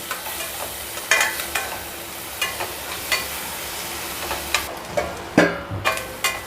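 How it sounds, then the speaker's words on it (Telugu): Chopped onions with salt frying in a pan for a tindora curry, a constant soft sizzle broken by regular scraping strokes of a spatula every second or so, close and fairly clear without talk. "సాల్ట్ వేస్తున్నాను ఉల్లిపాయలు కొంచెం మెత్తపడడానికి తొందరగా వేగిపోతాయి"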